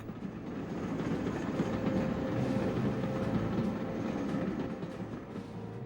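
A wartime train rumbles steadily down the track, a low continuous rolling clatter of wheels and cars that swells and fades slightly, with no voices.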